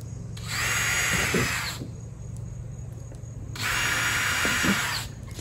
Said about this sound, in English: Let's drill right beside it.